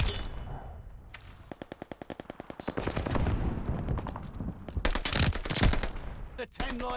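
STG assault rifle in Call of Duty: Vanguard fires rapid, evenly spaced automatic bursts, loud and close, with intermittent game sounds and someone talking over the shooting.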